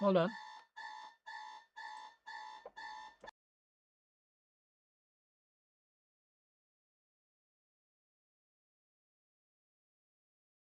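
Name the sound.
alarm clock going off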